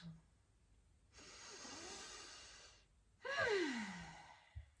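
A person takes a deep breath in and then out, a long airy inhale followed by a louder, rougher exhale, close and quiet, with no speech.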